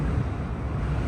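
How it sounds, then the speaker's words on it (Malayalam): Strong wind blows outdoors, buffeting the microphone with a steady, loud, low rumble and no voices. "നല്ല കാറ്റുണ്ട്."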